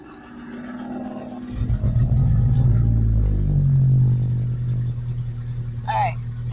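A truck engine with no exhaust system or muffler rumbles loud and low, revving to a harsh roar midway and then easing back to a rough idle, with voices talking over it.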